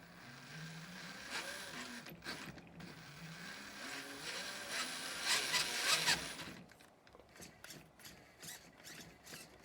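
A used Red Cat Danchee Ridgerock RC crawler whirs and clicks under light throttle, a close, fairly quiet motor and gear whine that rises and falls in pitch, ending with a series of ticking clicks.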